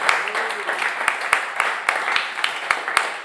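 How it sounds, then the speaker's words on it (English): A small live radio show audience claps for a few seconds, with loose, individual hand claps standing out crisply and a faint murmur of voices underneath. "how about we get one more round of applause for Ryan Biter, the first half of the show here today"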